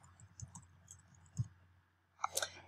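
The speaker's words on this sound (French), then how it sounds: "Et je clique ensuite ici sur recherche." Computer mouse clicks on a search button, a few faint sharp clicks spread across a quiet stretch, ending in a brighter cluster of clicks close to the microphone.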